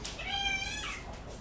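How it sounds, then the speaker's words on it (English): A female house cat meows indoors, one drawn-out, close meow lasting about a second, with no talking. "This is cat."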